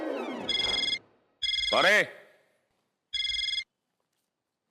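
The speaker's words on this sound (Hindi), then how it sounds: "आपका ही फोन बज रहा है।" Mobile phone ringtone going off in a police station, sounding in three bursts of bright repeating electronic tones with short gaps, loud and close, while a voice speaks briefly over the second burst.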